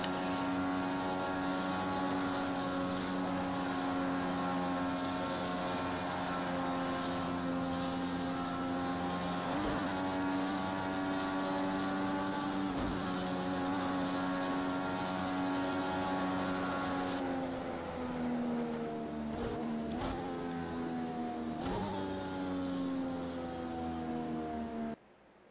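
An Indy race car engine in Project Cars 2 drones loudly at high revs, then its pitch dips and climbs again through several quick shifts and throttle lifts near the end.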